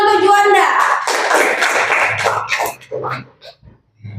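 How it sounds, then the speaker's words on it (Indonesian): Classroom clapping for a student's answer: a brief burst of hand claps at the start, quickly fading as a teacher's voice takes over. "Tepuk tangan untuk Juanda."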